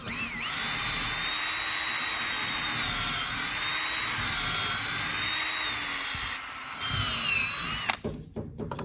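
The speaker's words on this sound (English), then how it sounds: "Drilling some pilot holes here for the wood screws." A power drill whines steadily and close up for several seconds, drilling pilot holes in wood, its pitch dipping slightly as it bores, then cuts off abruptly.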